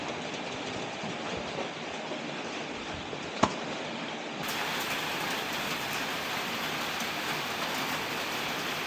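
Steady rain falls during a hike on section two of the MacLehose Trail in Hong Kong's hills, a continuous broadband hiss that grows slightly louder midway, with one brief sharp tap.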